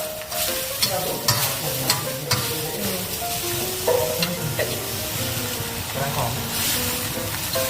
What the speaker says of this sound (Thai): ใส่ขอบกละทะนะครับ มันจะได้ได้ความหอมของน้ำปลา